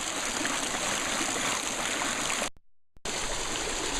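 Water gushes steadily from an open garden water line, a loud continuous rushing with a brief cutout near the end before it resumes.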